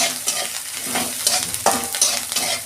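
Panch phoron and grated ginger hit hot oil for a Bengali vegetarian dish, a loud close sizzle punctuated by repeated spoon-stirring scrapes at an irregular rhythm, no voices.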